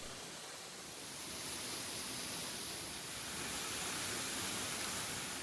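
Steady broadband roar of the Lyrebird Dell waterfall in the Blue Mountains, water pouring over sandstone in a continuous, dense wash that swells slightly, with no voices.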